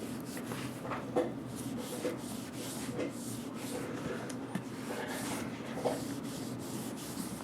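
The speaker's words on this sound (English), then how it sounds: "Let me go ahead and go over it with the buffing cloth here." Buffing cloth with polish rubbed over a pistol slide in a series of steady back-and-forth strokes, a soft continuous scrubbing with faint cloth swishes and occasional light knocks, close up with no speech.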